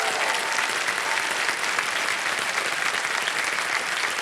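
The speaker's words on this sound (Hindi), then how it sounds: "सर बहुत बहुत बधाई, ताली बज जाए इनके लिए।" A studio audience at the Kaun Banega Crorepati quiz show claps steadily, loud, continuous applause filling the room with no talk over it.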